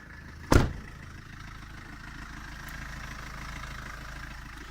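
Renault Kangoo 1.5 dCi diesel van idling steadily at close range, a sharp brief thump near the start and then an even, low engine rumble with the power steering in use, no talking.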